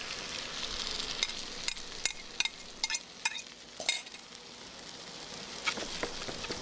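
Courgettes fry for a frittata in a pan, giving a soft, steady sizzle with scattered sharp clicks and scrapes of stirring, close and moderately quiet, with no talking.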